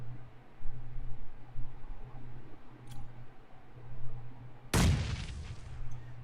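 Gunfire from an M4 rifle in a tournament video game match, a sharp loud burst near the end that follows a steady low hum and faint ambient game noise.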